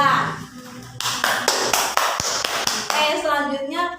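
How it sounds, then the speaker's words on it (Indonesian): Classroom applause from students during a microteaching lesson breaks out as a short round of brisk clapping, mixed with a few voices, loud and close. "Mari kita beri aplaus buat Bulan."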